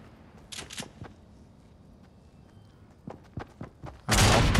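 Gunfire in Fortnite at Tilted Towers: a few sharp, spaced reports early on, then a louder, dense burst of shots near the end.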